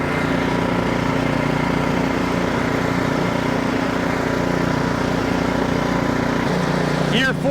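An Ariens Professional 28-inch snowblower engine runs close by at a steady, loud, even drone that holds unbroken throughout, with a brief higher sweep right at the end.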